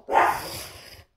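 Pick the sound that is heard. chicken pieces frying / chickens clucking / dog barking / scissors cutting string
dog barking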